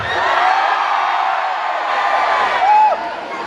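A large crowd at a live concert shouts together on cue, a loud sustained roar of voices and whoops that holds for several seconds with a brief swell near the end.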